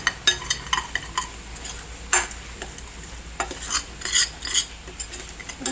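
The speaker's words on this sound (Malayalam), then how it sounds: "കുറച്ച് മണത്തിന് വേണ്ടി കായപ്പൊടി എല്ലാം ഇട്ട് നമുക്കൊന്ന് ഇളക്കി" Repeated scraping and clinking of a spoon stirring asafoetida and spices in a pan for anchovy pickle, irregular strokes over a faint sizzle, close and fairly loud, no talking.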